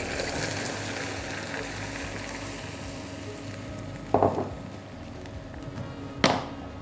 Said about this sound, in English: I'm going to add all the milk in one go on top of the caramel, and I'm going to put my pan back on the heat